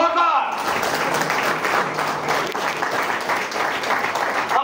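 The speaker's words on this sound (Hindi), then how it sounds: "एक बार जोरदार तालियां, जोरदार मतलब जोरदार" An audience at a motivational leadership speech claps loudly and steadily, a dense wash of hand claps filling the whole stretch, with a voice briefly audible at the start.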